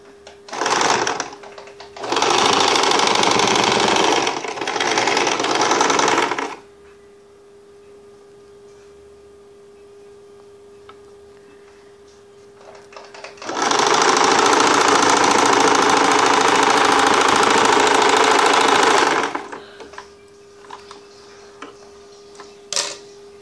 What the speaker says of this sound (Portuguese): Você pode mostrar eu costurando essa parte aqui.